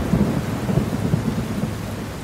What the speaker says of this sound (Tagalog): Bago makalagpas ng tulay, ay bumagsak na ang malakas na ulan.